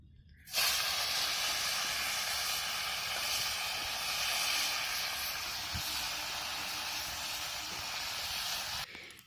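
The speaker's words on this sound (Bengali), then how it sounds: "এবারে ফুলকপি মা ভেজে নেবেন" Cauliflower pieces frying in hot oil for a fish curry, heard as a loud, even hiss of sizzling that starts abruptly and holds steady without stirring or talk.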